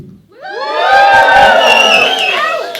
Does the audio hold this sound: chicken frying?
no